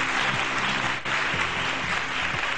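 Studio audience applause fills a Pakistani morning show set, a dense, steady wash of many hands clapping that stays loud and even throughout, with only a brief dip partway.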